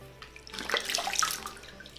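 Water runs from a tap into a sink during face washing, a brief close splashing rush that swells and fades over two seconds.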